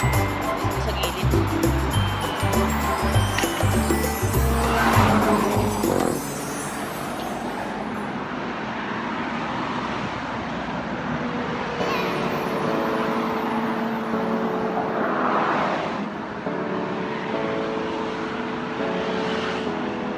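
Vehicles on a highway in Hong Kong produce a continuous roar of passing traffic, with a heavy engine rumble close by at first, then a steadier background whoosh while people talk nearby.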